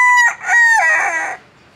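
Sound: cockerel crowing in a bag at an Indian night market

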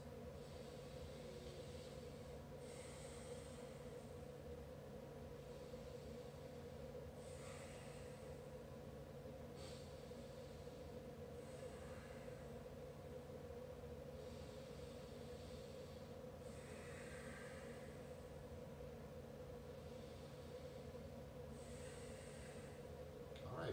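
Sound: deep breathing while holding a hip stretch

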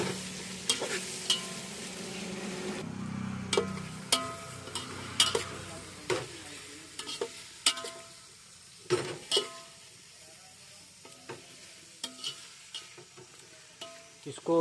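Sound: onions frying and being stirred in a pan

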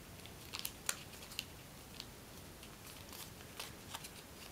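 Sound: origami paper being folded into a hummingbird

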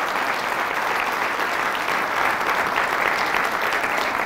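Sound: congregation applauding in church

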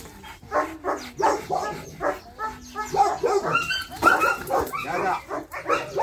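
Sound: dog barking

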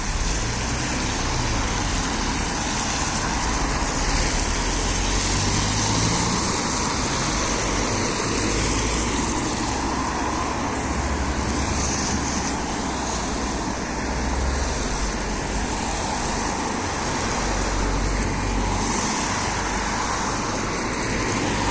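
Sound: cars driving past at traffic lights

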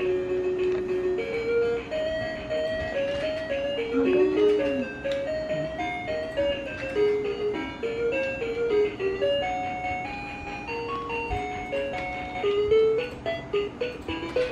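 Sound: Vtech Playtime Bus toy playing a phonics song

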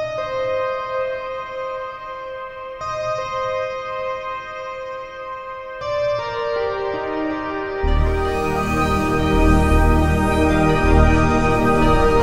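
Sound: synth multi patch, top end, Omnisphere pipe organ library

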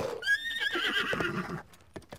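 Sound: horse neighing and hooves in Zelda Breath of the Wild video game

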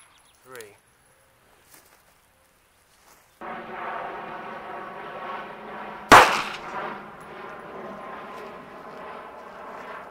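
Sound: gunshot of 380 ACP Hornady Critical Defense round

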